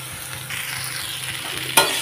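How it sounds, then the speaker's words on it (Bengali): Chow mein with cabbage, onion and carrot stir-fried in a pan. A steady, close sizzle and scraping stir, with one sharp metallic clink near the end. "এর মধ্যে আমি চাউমিনটা অ্যাড করে দিলাম, পেঁয়াজটাকে আর গাজরটাকে লাল করে দিয়ে। তো এখন বেশ সুন্দর নাড়াচাড়া করছি।"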